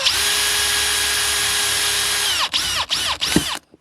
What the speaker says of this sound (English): I'm going to use a drill because that's the tool that I have